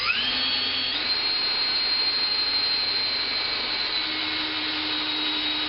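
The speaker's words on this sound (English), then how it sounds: "We're going to prime the motor, get some oil circulating through it" A motor being primed to circulate oil gives off a steady, loud electric whine that rises in pitch during the first second and then holds even, with no talking.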